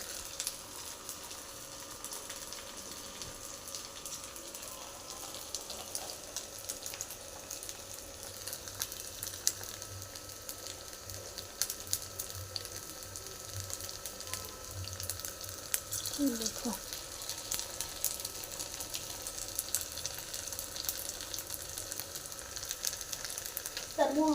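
Sago pakoras frying in hot oil over a lowered gas flame make a soft, steady sizzle and bubbling, fairly quiet, with occasional clinks of stirring and no speech over it.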